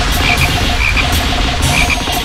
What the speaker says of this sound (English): There's a frog there.